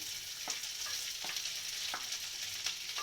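Kumpir filling ingredients are stirred in a pan, giving a quiet, steady sizzle broken by a regular series of soft scraping strokes.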